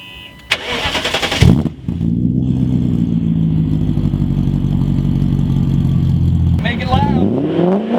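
A 1994 BMW 540i engine cranks and catches, then settles into a loud, steady, deep idle before a brief rise in revs near the end; a voice is heard faintly early on.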